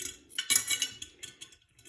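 Small metallic clinks and jingles of British coins dropping into a cash envelope and settling together, close up, a quick cluster of bright taps with no speech.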